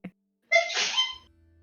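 A single sharp, loud human sneeze bursts out close up, preceded by a brief intake and trailing off into quiet low background hum.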